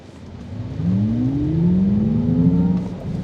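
A 2024 Acura ZDX Type S electric SUV floored from a standstill on an open road gives a rising synthetic whir that climbs steadily in pitch over about three seconds, moderately loud and smooth, with no talking.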